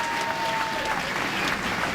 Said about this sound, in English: Sellout crowd, standing ovation, all well-deserved.